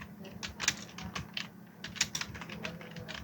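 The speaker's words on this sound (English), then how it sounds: "I type here Google Tag Manager" Typing on a computer keyboard, quiet close clicks and taps in two short bursts of several keystrokes each, over a low steady background hum, with no talking.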